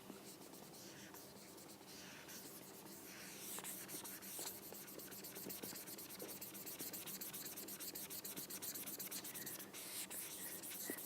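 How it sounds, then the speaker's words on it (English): Soft, dry rubbing and scrubbing of an eraser across a written board in a math lesson, continuous scratchy strokes that grow a little louder partway through, close but quiet, with no talking. "I'm going to erase this now."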